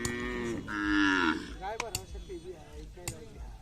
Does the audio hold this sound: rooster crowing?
no